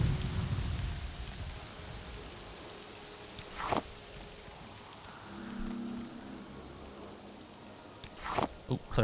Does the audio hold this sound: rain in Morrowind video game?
yes